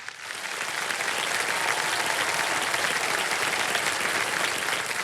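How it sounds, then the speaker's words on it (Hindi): A studio audience on the Kaun Banega Crorepati game show breaks into loud, dense applause that swells quickly and holds steady, with no talking over it. "बहुत बहुत स्वागत आपका तालियों के साथ इनका। जोरदार तालियां।"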